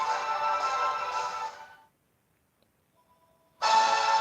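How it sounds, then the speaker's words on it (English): A phone rings in two loud electronic bursts, the first fading out after about a second and a half, then near-silence before the ringing resumes abruptly. "And the phone's ringing, so I'll be right back."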